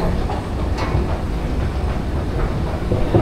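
A train approaches a station and gives off a steady rumble with faint clacking and rolling rail noise. The sound stays at a fairly even level and has no spoken words over it.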